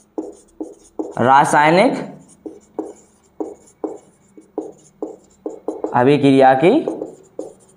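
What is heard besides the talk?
writing on a board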